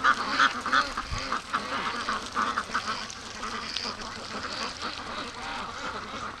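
Free-range ducks quack in a loose chorus of repeated calls near and far in a muddy yard, moderately loud, with a brief thump partway through.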